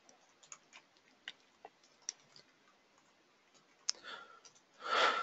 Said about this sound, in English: so you'll have to watch me type it.